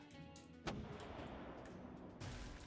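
A gunshot in the video game Pit People lands as a sudden booming blast with a rumbling tail, followed later by a second heavy burst, both under a low game background.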